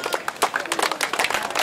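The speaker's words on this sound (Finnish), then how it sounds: "Otetaanko semmoinen jatkuva aplodi ja taputus?" An audience at the Anianpelto market event in Vääksy claps in rapid, continuous rhythmic applause, sharp overlapping hand claps close by with no pause.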